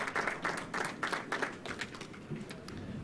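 Appreciative audience applause at a World Billiards British Open final, a steady patter of clapping from a crowd that swells in bursts and then tapers off, moderately faint and heard on its own.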